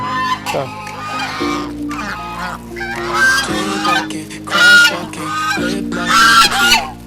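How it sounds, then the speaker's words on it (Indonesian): A flock of geese in front of a house honk loudly and repeatedly in overlapping calls, close by, with some faint talk mixed in. "Ya, ini ada banyak angsa tuh."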